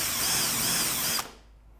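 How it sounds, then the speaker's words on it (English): Power drill with a countersink bit boring into a wooden pallet joint for a smokehouse build, a loud steady whir for just over a second that abruptly stops, leaving faint room noise. "we're going to take the countersink bit, I'm going to put that in, and I'm going to drill"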